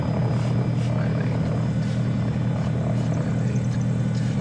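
Diamond DA-42 twin engines droning steadily while lining up on the runway, a loud continuous propeller hum heard from inside the cabin, with faint radio talk over it.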